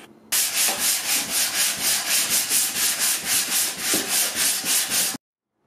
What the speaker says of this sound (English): I'm spraying water on the wood to raise the grain and then sanding it.